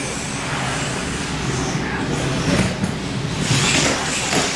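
Radio-controlled monster trucks race over jumps at a retro outdoor race, their electric motors giving a dense, loud whine and rumble that surges as they get air.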